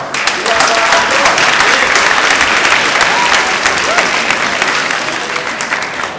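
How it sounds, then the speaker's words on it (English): Dense, sustained applause from a large audience at a Latino community political event, steady and loud throughout with a faint murmur of crowd voices underneath. "Give that a round of applause."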